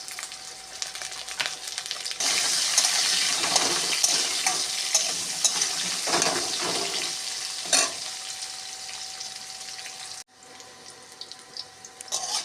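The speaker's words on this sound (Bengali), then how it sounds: "আলু ভাজা হয়ে গেছে" Potato pieces fry in oil tempered with nigella seeds and sprinkled with turmeric, giving a continuous broad sizzle with stirring scrapes and a sharp clatter, then a brief drop to quieter crackling near the end.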